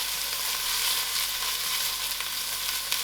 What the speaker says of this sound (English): allow this to fry for